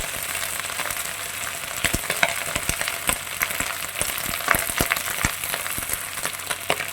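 Fresh drumstick leaves (murungai keerai) frying in a home pan for a poriyal, a steady close sizzle and crackle with scattered sharp pops and stirring clicks throughout, no talking.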